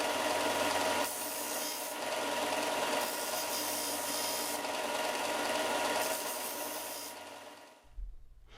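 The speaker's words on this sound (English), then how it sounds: "sanding off the nubs of sub-branches on the twig" Steady, close abrasive sanding against a wooden twig, removing branch nubs, continuous for several seconds in long even passes, then stopping abruptly with a soft knock.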